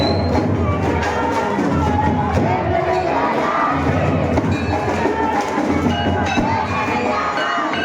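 A dense crowd of devotees at a Dol Gyaras festival makes a continuous loud din of mingled voices and shouts, with no single clear speaker.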